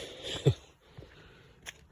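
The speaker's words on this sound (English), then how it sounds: "I'm sniffing." A person sniffing at a bad smell while walking in woods, a few short nasal intakes, the loudest near the start and two softer ones after, close and otherwise quiet.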